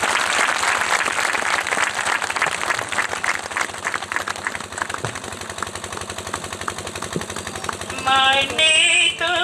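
A church congregation applauds in a steady, dense wash of clapping for several seconds, before music with a sung melody rises at the end.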